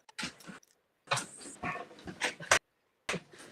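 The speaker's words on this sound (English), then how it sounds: "you're letting your dog in?" A dog being let indoors from the cold, snowy outdoors gives a few short panting and whimpering sounds in separate bursts, fairly close and with no talk over it.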